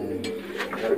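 Pulsar breed Madrasi pigeons give a brief soft coo, close by, against a faint background hum.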